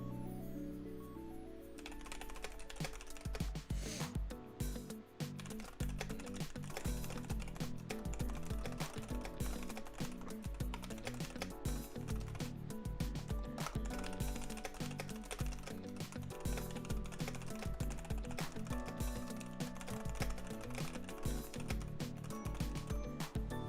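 Fingers type rapidly and steadily on a computer keyboard. The dense clicking of keys continues for over twenty seconds, close and clear, with no voices.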